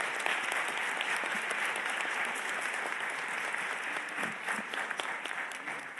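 An audience at a UN Refugee Agency progress review meeting in Geneva gives panelists steady, dense applause that holds evenly for several seconds without any voices.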